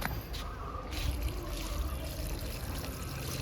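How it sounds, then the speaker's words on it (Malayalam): Water pours and trickles into soil in a steady, splashy stream, close and moderately loud, over about three seconds. "ഇതിനകത്ത് കുറച്ച് വെള്ളം ഒഴിച്ച് ഇട്ടേക്കണം"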